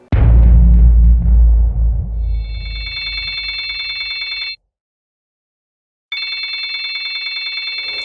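A telephone bell rings loudly and up close in two long trilling bursts separated by a pause, following a heavy low rumble at the start.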